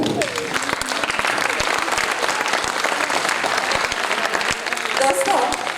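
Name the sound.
audience clapping at a seminar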